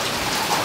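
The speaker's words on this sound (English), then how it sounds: "It's freaking thundering and raining." Steady rain patters and hisses during a thunderstorm. The sound is a dense, even wash of drops that stays loud throughout the short stretch. No distinct thunder clap stands out.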